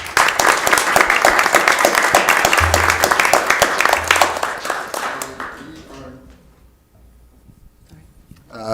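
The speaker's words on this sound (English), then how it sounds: "Let's give Susan a round of applause." An audience at a city council meeting gives a round of applause for an honoree, a dense, steady wash of clapping for about five seconds that then thins out and fades away.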